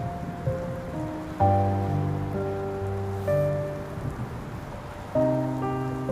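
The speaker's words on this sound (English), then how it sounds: "Why are you standing here in the rain?" Steady rain falls and patters in the video game Love and Deepspace, a soft continuous wash beneath sustained musical tones, with no voices.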